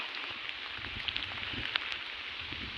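Rain falling steadily on a farm field during turmeric planting, a constant soft hiss with faint scattered drop ticks and no voices.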